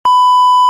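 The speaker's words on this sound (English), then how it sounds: "That beep." A single sharp, loud censor beep, a pure steady electronic tone held for under a second with nothing else around it.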